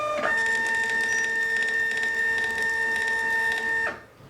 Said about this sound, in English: because it will print on your labels